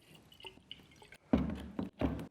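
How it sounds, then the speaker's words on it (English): Water is poured into paraffin in a container, heard as a few short bursts of splashing and dripping, close and fairly quiet, after a stretch of faint small drips. "put some water."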